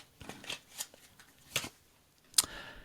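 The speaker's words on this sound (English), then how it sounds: "I'm even going to give it a proper, like, fan shuffle here." Playing cards riffled in a fan shuffle, several brisk papery bursts of flicking and snapping spread over a few seconds, close and fairly quiet with no talking.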